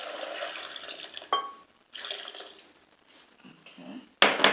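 Water pours into a blender over cucumbers and ginger, splashing in a few short bursts with brief pauses between, fairly close, ending in a louder gush.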